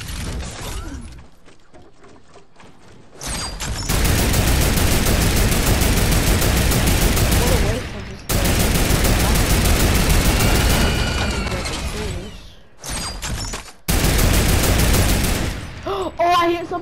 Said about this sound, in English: I'm gonna take a suppressed assault rifle